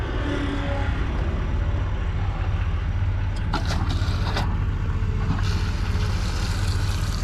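A skid steer loader's diesel engine runs steadily at a construction site clearing land for a new road, a loud continuous low rumble with a few brief metallic clanks partway through, no talking.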